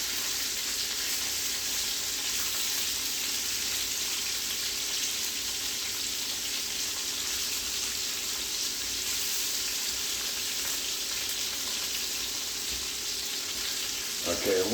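Beef short ribs searing in a hot pan, a loud, steady, crackling sizzle that continues unbroken throughout, with a small clatter at the very end.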